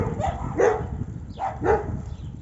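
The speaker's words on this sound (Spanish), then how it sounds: "Madre mía, cuántos perros" Several dogs bark outdoors at a camper-friendly stop in Germany, a few sharp barks and yips spaced over a couple of seconds, moderately close and loud against light background noise.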